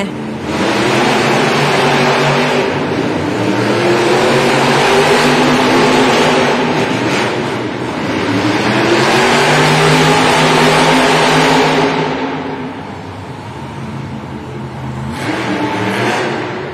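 Monster trucks race at a Monster Jam stadium event, their engines roaring loud and continuous with surging revs that ease briefly before building again.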